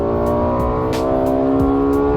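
Lexus LFA with its Yamaha-designed naturally aspirated V10 holding a loud, steady high-rpm howl, dense layered engine tone sustained throughout with no talk.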